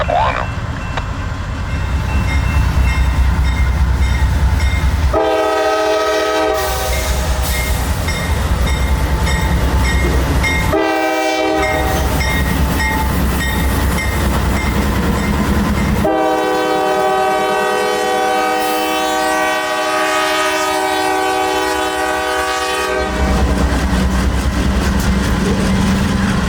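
A CSX freight train rolls past, led by a freshly painted locomotive, sounding its horn in several long loud blasts of varying length over a steady, continuous rumble of engines and rolling cars.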